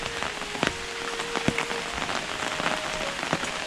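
Steady rain drums on an open umbrella at a Vietnamese pagoda, a dense close patter with scattered louder drops striking the canopy, no voices.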